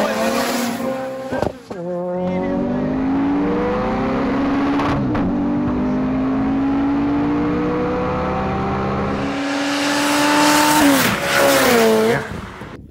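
Cars including a BMW X5M, Mitsubishi Evo 8, turbo Niva, Toyota Starlet and Subaru WRX roar and accelerate together from a rolling start, engines rising in pitch through the gears, with a brief tire squeal and a louder surge near the end.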